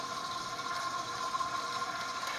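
A stand mixer mixing pizza dough on low gives a steady mechanical whir with a faint ticking, gear-like rattle, heard close and continuous without talk.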